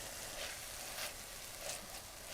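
A spice paste softens in a pan with a faint, soft sizzle and gentle stirring swells, brief and quiet with no voices.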